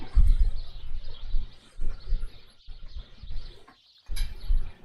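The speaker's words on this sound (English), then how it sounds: "Also, birds chirping." Game birds chirping and cooing in The 39 Steps video game, a steady ambient layer of soft tweets over low rumble, with a brief quiet gap near the end before it resumes.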